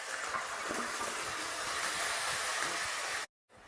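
Paste of ground tomato, onion, dried red chili and spices hits a hot pan for Bengali-style chicken rogan, giving a loud, steady broadband sizzle that runs for about three seconds before cutting out abruptly.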